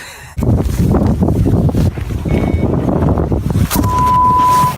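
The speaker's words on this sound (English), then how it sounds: "today the wind is all over the place, as you've seen" Wind blows outdoors beside a pike fishing water, a loud, close rumble of gusts buffeting the microphone that runs without a break and carries a few faint tones; no speech.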